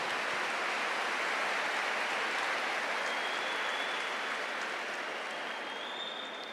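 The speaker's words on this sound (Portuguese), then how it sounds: "Aplaude o irmão asno que está do seu lado." Applause from a congregation at a family camp for a preaching session: a dense, steady wash of clapping, loud and continuous throughout, slowly tapering slightly toward the end.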